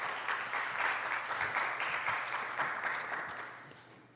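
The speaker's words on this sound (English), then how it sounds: "Let's give him a round of applause to him." An audience at an environment forum conference in Incheon applauds in a dense, even burst of clapping that holds steady and then slowly tapers off.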